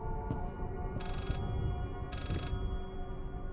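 A telephone rings inside the horror game Layers of Fear, two electronic bell bursts about a second apart over a low droning ambient score.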